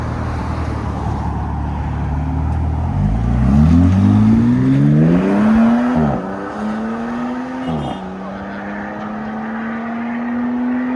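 A 2026 RAM 1500 pickup with a 3.0L Hurricane inline-six and straight pipes revs loudly with rising engine pitch, then pulls away and drives off, the exhaust note steadying as it recedes.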